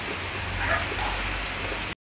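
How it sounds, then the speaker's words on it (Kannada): A dense, steady wash of rain hisses loudly for a couple of seconds, then cuts off abruptly. "ಜೋರಾಗೆ ಬರ್ತಾ ಇದೆ ಗೈಸ್ ಮಳೆ."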